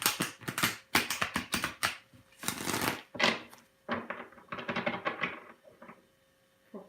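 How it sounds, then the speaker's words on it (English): Tarot cards riffled and shuffled in quick bursts, crisp flapping clatter close to the microphone with short pauses between shuffles. "One last shuffle for Patricia Cobb."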